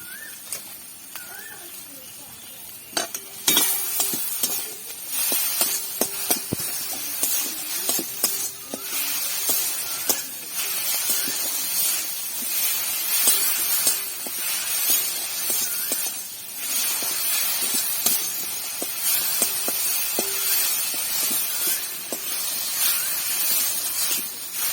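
Masala frying in a pan for a Bengali okra malai curry, giving a steady close hiss and sizzle throughout with occasional clinks of a utensil.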